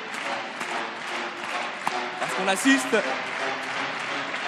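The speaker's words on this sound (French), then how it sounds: "on applaudit dans la salle" Applause from a crowd in the hall at a ping pong contest, a continuous wash of clapping heard beneath a commentator speaking over it.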